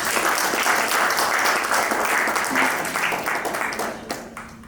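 Loud, dense round of applause from an audience at a client care program presentation, holding steady before gradually tapering off.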